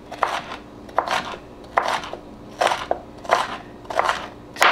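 A knife chops peppers on a cutting board in a home kitchen while beans and rice are being made, with about seven crisp, evenly spaced crunchy cuts, close and clear.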